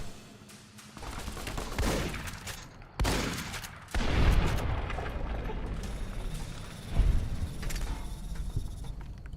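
Rapid video game gunfire in a battle, bursts of automatic shots crackling loud and close, with a few sharp louder blasts over a steady din of combat.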